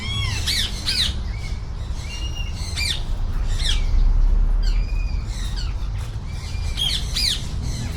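A parakeet squawks loudly and repeatedly, with sharp harsh calls coming in bursts over steady background noise.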